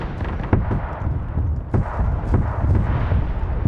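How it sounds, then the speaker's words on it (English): Heavy battle gunfire in a Warhammer 40,000 Space Marine video game, with dense rapid shots and booming explosions crackling in overlapping bursts at close range and no voices. "you're just hearing a massive amount of gunfire"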